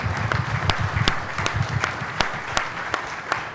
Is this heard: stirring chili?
no